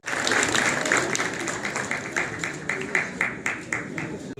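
Loud applause from a festival audience at a Christmas choir celebration, sustained hand clapping filling the space with uneven swells, while a voice speaks over it.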